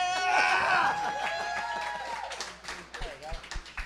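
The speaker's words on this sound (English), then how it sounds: "You can clap." A live audience at an evening talk event cheers and whoops loudly at first, then scattered claps and chatter follow as the noise thins out, with a voice heard over the crowd.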